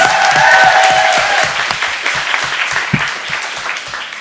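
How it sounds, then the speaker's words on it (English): Audience applause at a fundraising gala honoring a refugee advocate, a dense, loud wash of many hands clapping that fades slightly toward the end, with a few sharper individual claps standing out. "Please, a round of applause."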